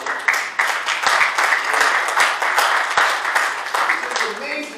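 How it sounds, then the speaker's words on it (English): A church congregation at a Christmas service claps in praise, a dense, steady wash of many hands clapping together for several seconds, fairly loud and continuous. "Let's give the Lord a hand clap of praise."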